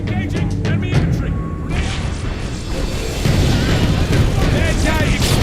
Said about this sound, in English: Bad guy exploded.